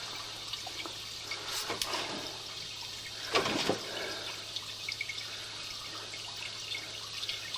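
Water rushes through a residential sewer pipe in a rolling, echoing gush that swells twice into louder surges before settling back to a steady trickle, with no one speaking.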